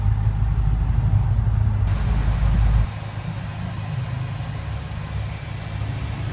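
A 2014/2015 BMW M5 F10 idles through its quad round chrome exhaust tips, a deep steady rumble that steps down to a quieter settled idle partway through, with no talk.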